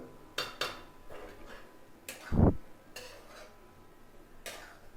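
A utensil stirring grated coconut in a pan over low heat for frying, making a few soft scraping and clinking strokes against the metal, with one louder knock in the middle, all fairly quiet.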